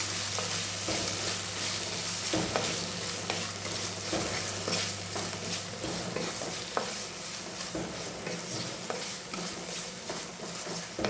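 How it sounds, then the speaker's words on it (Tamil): Onions and tomatoes sauté in a pan for a meal maker (soya chunk) gravy, a steady close sizzle with frequent scraping stirs and occasional utensil knocks, no voices. "ரெண்டு தக்காளி இதையும் போட்டு நல்லா வதக்கிடணும்"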